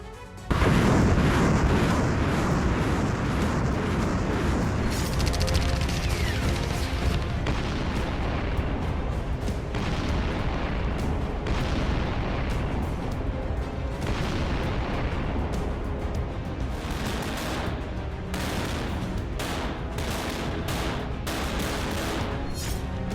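Artillery and missile strikes in the Russia-Ukraine war, a dense, loud run of heavy booms and blasts with no break across the whole stretch, no speech over it.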